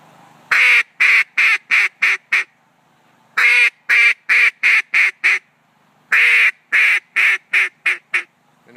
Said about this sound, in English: And all it really is a series of quacks. It's going to be a 4 to 6 note call.